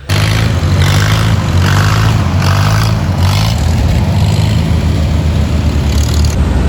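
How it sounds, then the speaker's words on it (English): Tractors rumble past in the Freddie K tractor ride parade in Ephraim, Door County, a steady low engine drone with pulsing mid-range bursts as machines pass, loud and continuous throughout. "including today, the Freddie K tractor ride over here in Ephraim."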